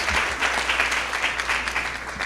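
Audience applause at a teacher of the year luncheon, a dense even wash of clapping from a room of people, moderately loud and unbroken.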